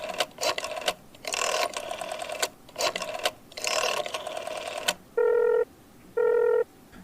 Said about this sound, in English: My mother picked up the phone and quickly dialed the Schwartz residence.